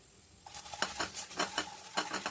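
A spoon stirs mushroom masala in a hot pan, scraping in quick repeated strokes over a soft sizzle, close and fairly quiet.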